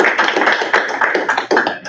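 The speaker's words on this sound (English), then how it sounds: "So I think we deserve to give her a big round of applause." A school board meeting audience gives a round of applause, with irregular overlapping claps from a modest group in a room, close and fairly loud, the claps thinning slightly toward the end.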